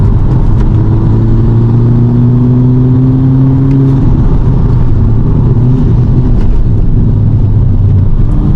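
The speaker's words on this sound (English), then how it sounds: "to the turbo spooling up" A VW MK5 Golf GTI with a DSG gearbox drives along back roads, its engine droning loud and steady from inside the cabin. A rising turbo whine builds over the first half.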